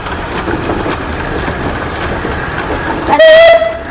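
A 1910 advanced 16 horsepower antique tractor rolling past in a parade, a loud steady mechanical rumble close by, ending in a sharp high whistle-like blast.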